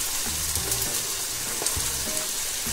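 Slit green chillies dropped into hot oil sizzle steadily, a loud, close crackle that holds evenly throughout with small pops.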